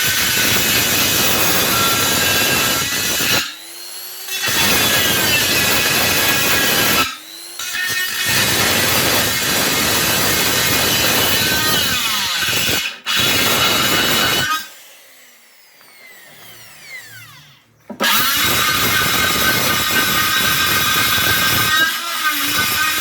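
A rotary burr grinds a chamfer into an aluminium wheel rim from a VW Touareg V10, a loud, harsh, continuous whine in long bursts broken by short pauses and one longer quieter gap.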